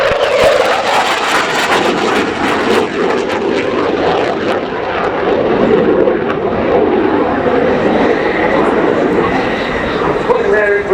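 A Swedish Air Force Saab JAS 39C Gripen jet fighter roars through an air show display at RIAT Fairford, its loud, continuous engine rumble and whine filling the air throughout, with a commentator speaking over it.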